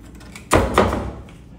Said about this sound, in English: And this bathroom has a sliding door.